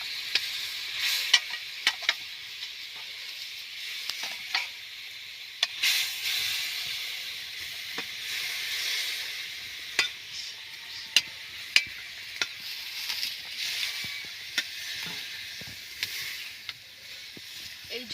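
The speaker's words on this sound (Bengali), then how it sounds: "এই ঝোলটা আমি 2 থেকে 3 মিনিটের মতো ফুটিয়ে নেব" Rupchanda fish curry gravy bubbles in a pan after fried fish pieces are added, a soft continuous hiss and simmer broken by scattered small clicks and pops.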